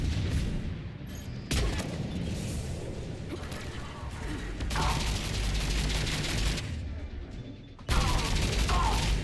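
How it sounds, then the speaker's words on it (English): Loud gunfire from a gun in the video game Mass Effect 3 rattles out in heavy, rapid bursts with brief pauses between volleys, close and booming, while a player talks over the shooting. "Why is that gun so loud"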